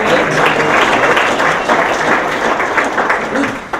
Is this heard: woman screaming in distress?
no